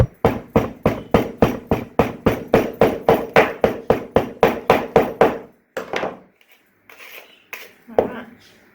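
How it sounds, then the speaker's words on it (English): A hammer packs clay into a sand casting mold with a fast, steady run of about twenty sharp, close blows. Softer scraping and handling sounds follow. "And compressing it with a hammer."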